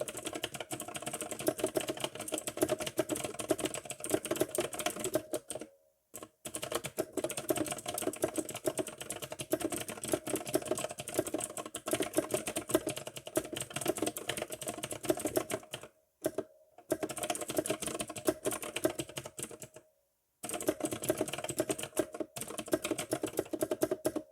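Rapid, continuous key clatter from a Razer Blackwidow X Tournament Edition Chroma mechanical keyboard, typed close up with dense clicking interrupted by a few brief pauses, no voices.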